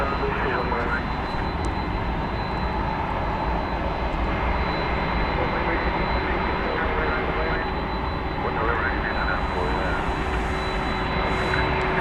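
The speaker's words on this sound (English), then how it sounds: "Here comes the 767 that came in from Houston." Steady roar of a Boeing 767 jet airliner engine at DFW Airport, loud and continuous, with a faint high whine running through it.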